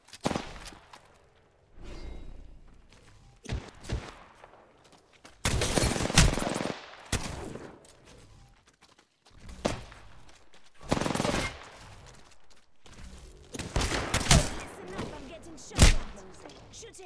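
Bursts of rapid automatic gunfire crackle in a first-person battle royale match in Apex Legends, loud close volleys separated by quieter gaps with whooshing movement between them.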